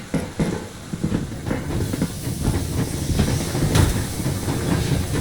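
A steam locomotive in the video game Metro Exodus sets off: a steady loud hiss of steam over a low rumbling chug, with scattered clanks throughout and no talking.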